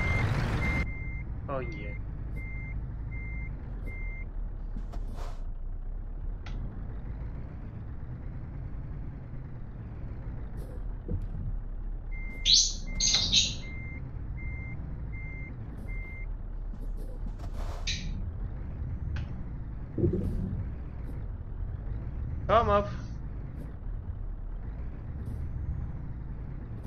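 A heavy truck in Euro Truck Simulator 2 sounds repeated steady reversing beeps and sharp hisses of air brakes over a low engine rumble, with someone talking in between.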